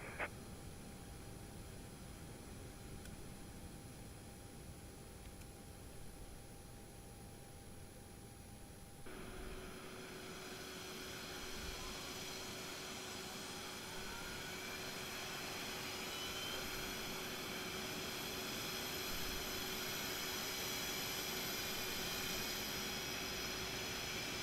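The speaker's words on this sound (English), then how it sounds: "Starting pushback, and you may start engines." Airbus A321neo engines spool up during pushback in X-Plane 12, a cabin hum giving way at about nine seconds to a broad rising jet whine and rush that swells steadily louder.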